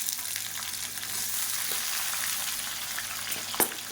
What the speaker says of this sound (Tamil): இப்போ நல்லா பொரிய ஆரம்பிச்சிருச்சு.